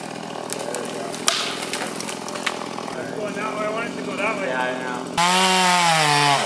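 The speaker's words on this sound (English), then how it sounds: "me and my brother took out his chainsaw, and we're gonna get some practice downing some trees" A chainsaw drones steadily at close range while cutting down trees, its engine pitch rising sharply near the end as it revs up.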